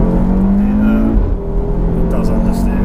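Audi RS3 with a tuned 2.5-litre turbocharged five-cylinder engine, heard from inside the car as it pulls hard, a loud droning growl rising in pitch then dipping briefly before climbing again.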